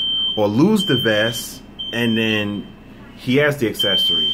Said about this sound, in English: Sorry about that, guys. That was my alarm.